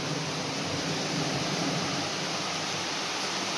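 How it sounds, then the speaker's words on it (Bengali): Heavy rain pouring down, a dense, unbroken roar of hiss and rush that stays loud and even from start to finish, with no voices over it. "প্রচন্ড জোরে বৃষ্টি হচ্ছে"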